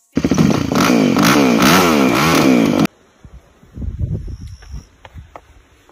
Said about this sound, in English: then we put on the benzene, then we kick it. And that is how you rebuild a dirt bike.